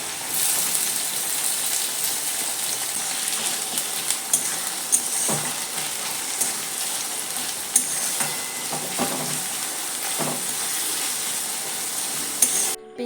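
Chopped onions frying in hot oil with whole garam masala and sugar in a wok, giving a steady, close crackling sizzle with occasional spoon clinks as the onions are stirred.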